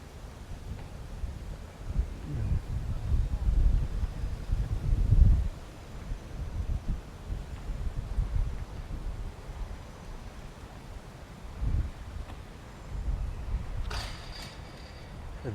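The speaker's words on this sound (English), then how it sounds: "I don't know how it's this windy" Low rumbling buffets of wind hitting a microphone above Mornington Crescent, London, gusting unevenly throughout with brief louder bursts.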